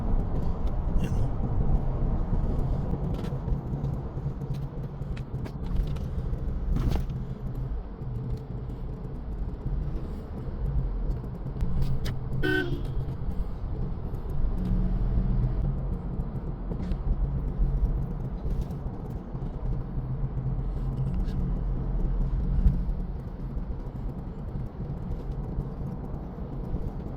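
A car moves through light night traffic on the way from NAIA airport, with a steady low road rumble and engine hum throughout, a few faint knocks and one brief squeak, and no talk.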